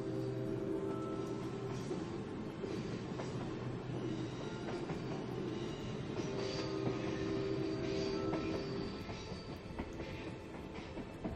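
Steam train rolling along rails in a sleep story ambience, a soft continuous rumble with rhythmic clickety-clack and faint wheel squeal, heard from inside the carriage.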